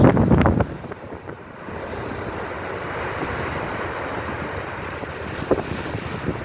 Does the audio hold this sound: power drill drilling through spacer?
no